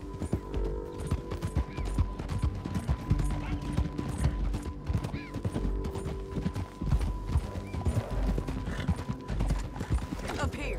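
A horse gallops in Red Dead Redemption 2: rapid hoof clip-clop runs throughout at a steady rhythm, with in-game voices talking over it.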